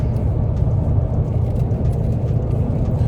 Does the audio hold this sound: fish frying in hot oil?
no